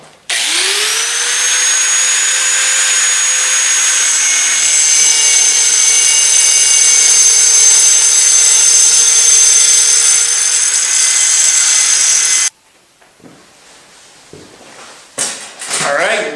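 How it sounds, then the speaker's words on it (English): An angle grinder fitted with a diamond cutting wheel cuts slate for a turkey call, a loud sustained high whine for about twelve seconds before cutting off abruptly, followed by brief handling clatter. "we're going to use a diamond cutting wheel on our grinder here"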